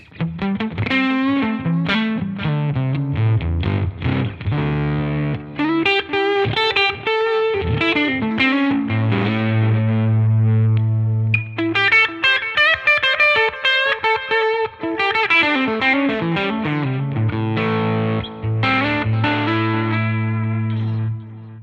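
Distorted electric guitar played through an IK Multimedia ToneX Plug amp modeler, with heavy effects, chorus and reverb, playing chords and melodic lines continuously, loud and close with no talking.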